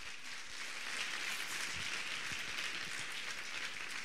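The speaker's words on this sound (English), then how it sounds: "can we have a round of applause for our 10 finalists here today?" A crowd at the Project Inspire 2014 grand finals applauds the ten finalists, with a dense, even wash of clapping that holds steady and fairly distant throughout.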